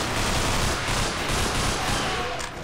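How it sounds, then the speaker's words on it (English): A grenade explodes in Underhell, a Half-Life 2 mod video game, as a loud, dense, sustained roar of blast and rumbling debris that fills the whole moment, with no talk over it. "Bloody hell, the grenade's powerful in this."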